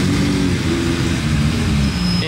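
Ferrari 250 GT Lusso in concours condition passing nearby, a loud, rich engine note rumbling steadily and filling the moment, with no talk over it.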